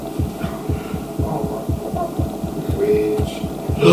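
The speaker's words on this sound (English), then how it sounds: "I hear our heartbeat. I feel like it kills us while it's loading too." A heartbeat in the video game We Happy Few thumps in a steady low rhythm, about two beats per second, loud and close under a faint hum, with no talking.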